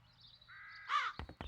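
A single harsh crow caw sounds in the fantasy adventure game The Dark Eye: Chains of Satinav, near and distinct after a rising whine, followed by two soft knocks over a quiet ambient hum.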